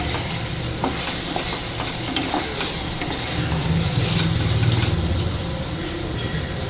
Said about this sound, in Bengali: প্রথমে আলু আর কাঁচা ঝালটা দিয়ে দেবো, ভালোভাবে নাড়িয়ে নেব।